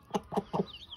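A hen gives three short, evenly spaced clucks close by, alone and clear, with a faint higher chirp trailing after.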